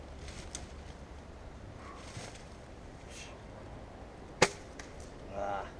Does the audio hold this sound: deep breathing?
no